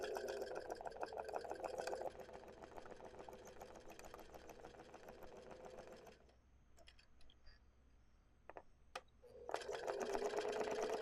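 A domestic sewing machine doing free motion straight stitching to embroider letters, a fast close motor-driven needle whir that stops for a few seconds of near quiet with small clicks, then starts up again.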